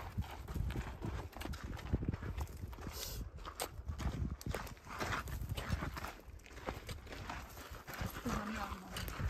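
Horses clip-clop along a rocky mountain trail on the trek from Manang toward Tilicho base camp, with uneven hoof strikes close by beneath ongoing conversation.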